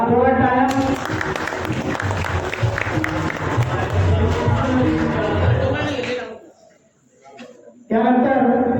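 Audience at a village temple-restoration celebration and Dabalbari bhajan performance applauds loudly and steadily with crowd noise, fading into a brief lull before resuming strongly.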